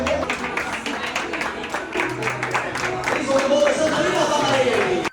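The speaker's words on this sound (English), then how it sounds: "everybody claps for you" Passengers' names are announced while they board a Disney cruise ship in Miami, and a crowd claps steadily throughout at moderate volume, with voices talking over the clapping.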